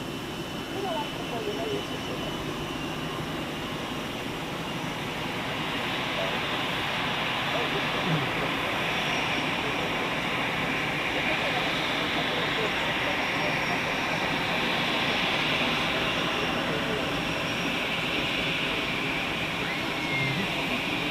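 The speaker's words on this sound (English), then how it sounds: "Here we have the Edelweiss A320 flying for Swiss inbound" An Edelweiss Airbus A320 flying for Swiss approaches Zurich Airport, a steady broadband jet roar that swells gradually and holds loud throughout. Outdoor wind noise sits underneath.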